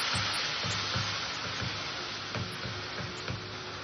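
Kashmiri chilli powder, turmeric and salt spice paste sizzling steadily in a pan after a little water is added, a continuous close frying hiss with soft stirring scrapes throughout, no voices.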